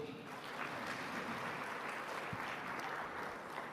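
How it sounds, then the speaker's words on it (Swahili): Audience applause at an African food systems forum launch in a Dar es Salaam state hall, a steady dense clapping from a large crowd, fairly distant and even throughout. "Naomba tuwapigie makofi."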